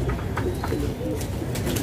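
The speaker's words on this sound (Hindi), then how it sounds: "ये सब मोमिया चोंच पंजों के कबूतर हैं" Saharanpuri cross Bajre pigeons with mumiya-colored beaks and feet coo close by, in soft repeated throaty calls with brief higher chirps scattered among them.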